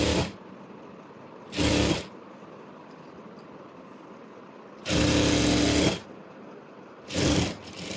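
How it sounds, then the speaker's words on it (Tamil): A sewing machine stitches the bottom hem of saree fabric, half an inch in from the edge, in four bursts of steady mechanical whirring. The bursts are short, then one longer, then short again, with quiet pauses between them. "கரெக்டாக ரைட் ஆன் ரைட் வச்சுட்டு அந்த 1/2 இன்ச்சில் பாட்டமில் ஸ்டிச் பண்ணுறேன்."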